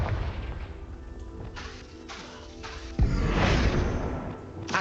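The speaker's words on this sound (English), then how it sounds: "Bombarda." Explosive spell blasts from Bombarda and Confringo in the Hogwarts Legacy video game, heard as a steady wash of booming, crackling bursts with a sharp, louder detonation about midway that stays heavy to the end.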